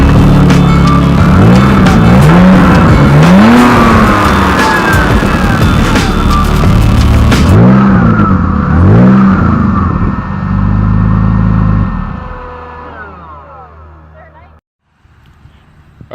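BMW E46 engine, running after a throttle cable repair, idles then rises in two sharp rev blips close by before dropping back and dying away toward the end.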